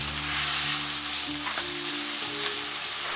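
Chicken pieces with salt and ground pepper stir-fry in a hot pan, producing a loud, continuous close-up sizzle with occasional scrapes of stirring, heard alone.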